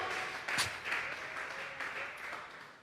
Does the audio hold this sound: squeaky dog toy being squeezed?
no